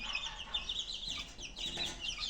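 Chickens on a village farm cluck repeatedly in quick, uneven bursts, fairly faint and without any talking over them.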